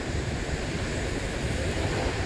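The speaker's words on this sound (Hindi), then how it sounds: "लहरें देखो खतरनाक।" Dangerous waves crash continuously at Velneshwar Beach, a dense, loud roar of surf mixed with wind buffeting the microphone, with no talking.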